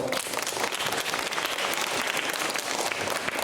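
Audience applause fills a high school admissions information session in a hall, a dense, steady wash of many hands clapping at constant loudness with no pauses.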